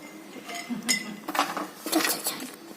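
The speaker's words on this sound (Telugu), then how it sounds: "ఐస్ క్యూబ్స్ వేద్దాం ఇప్పుడు" Ice cubes clink and rattle as they drop into a glass of blue butterfly pea flower drink made with sugar, basil seeds and lemon, a few quick bright knocks at close range.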